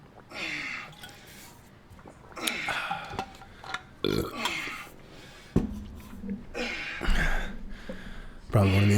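Several loud, guttural burps follow gulps of water during a podcast-style home workout, the belches recurring at irregular intervals amid breathy swallowing sounds.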